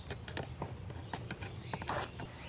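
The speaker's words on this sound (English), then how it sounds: "Get your old trusty screwdriver and a wrench and tighten them down." Screwdriver and wrench tightening bolts on a pond skimmer during installation, giving a run of sharp mechanical clicks and ratcheting ticks at close range over a low steady background hum.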